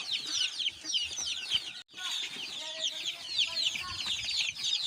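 Shamo Aseel chickens in a poultry yard keep up dense, overlapping clucking and squawks, close and fairly loud, with only a momentary break partway through.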